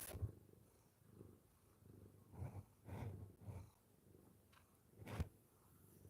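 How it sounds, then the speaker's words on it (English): Soft, low rhythmic purring from a cat very close by, rising and falling with its breaths, faint overall. "he's purring super loud"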